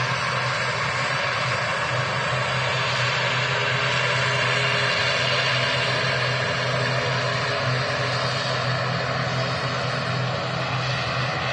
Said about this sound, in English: Dreamliner now on the roll as well.